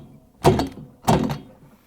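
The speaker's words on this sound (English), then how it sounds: "I'm going to knock on the handle hard to tighten the nut." Two heavy, dull knocks about half a second apart on a 24mm socket wrench handle, tightening the motor nut on an LG/Kenmore washing machine stator assembly, loud and close.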